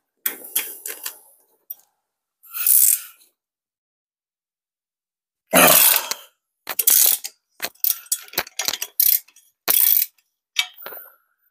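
Ratchet wrench removing rusty studs from a junkyard Porsche engine, heard as bursts of rapid clicking separated by silent pauses, some bursts short and sharp, others longer and louder, close by.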